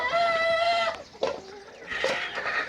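Free-range desi chickens forage in a garden, with a drawn-out rooster-like call at first, then scattered clucks and squawks nearby against outdoor ambience.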